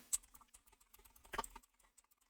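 A search term being typed into a web browser's search engine on a computer keyboard: close, crisp key clicks in irregular bursts with short pauses, alone without talk.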